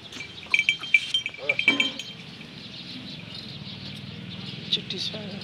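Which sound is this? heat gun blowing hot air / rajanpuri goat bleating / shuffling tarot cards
rajanpuri goat bleating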